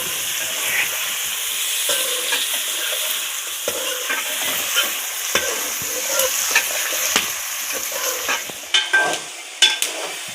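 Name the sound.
chicken frying and being stirred in ghee with onions, ginger-garlic paste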